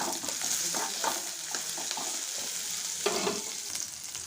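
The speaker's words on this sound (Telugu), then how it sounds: "ఆనియన్స్ కూడా ఫ్రై అవ్వాలండి ఇందులోనే పచ్చిమిర్చి వేసుకున్నాను" Chopped onions and green chillies sizzle and fry steadily in a hot pan, with a broad continuous hiss and scattered spatter crackles, close and alone, as a spatula scrapes and stirs them now and then.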